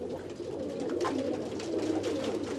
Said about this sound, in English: Persian high-flyer pigeons are bred for their aesthetic appearance and flying skills.